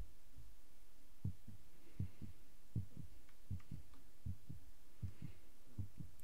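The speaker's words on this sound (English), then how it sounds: "heartbeat, it's an audio file and it doesn't loop perfectly, so you can sometimes hear it" Looping heartbeat effect from the video game Ann, a soft, muffled low double thump repeating at a steady slow pulse, about eight beats over a quiet hum.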